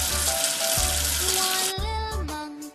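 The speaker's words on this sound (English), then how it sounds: "Wash away the soap with water." Running water rinsing soap off in a cartoon washing game, a bright rushing hiss that cuts off partway with a few playful tonal effects and splashes following.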